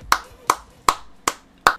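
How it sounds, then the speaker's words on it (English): One person claps slowly and distinctly, five sharp, close hand claps spaced about a beat apart, each with a crisp attack and a short room decay. "Round of applause. Round of applause."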